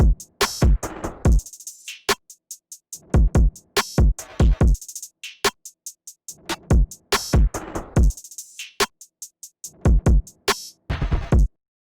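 A hip-hop beat with punchy kick and crisp snare hits, plus a drum fill, played loud and alone in sharp, clearly separated repeating patterns with short gaps between phrases.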